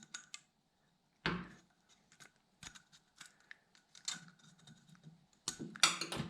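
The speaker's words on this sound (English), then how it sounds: "Now we need to remove the clip here." Metal clicks and scraping as a rusty retaining clip is pried from the fork of a 2004 Honda XR 125, irregular close-up bursts with short quiet gaps between.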